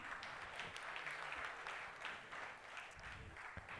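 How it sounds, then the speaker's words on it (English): A crowd at a corporate partner meet in Bengaluru claps for a guest called to the stage, a steady, fairly distant wash of many hands that holds level throughout. "A big round of applause for him"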